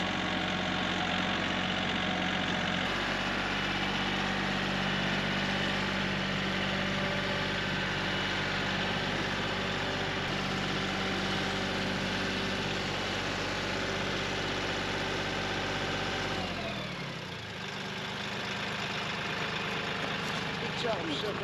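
A tractor engine idles steadily and loudly at close range in a remote Alaskan island setting at night, a continuous low rumble that dips briefly near the end before carrying on.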